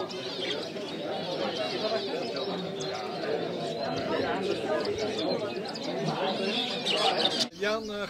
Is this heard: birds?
yes